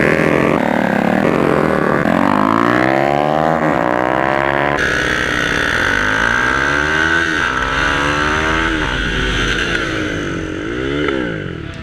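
A motorcycle running on its stock fuel map with an aftermarket exhaust revs loudly and alone, its engine pitch climbing and falling in repeated sweeping throttle blips.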